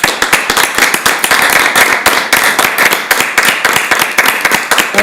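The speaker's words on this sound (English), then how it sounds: "Let's give this man a nice round of applause." Round of applause at a Charlottetown city Public Works Committee meeting, dense steady clapping from a small room of people for about five seconds, close and fairly loud with no talking.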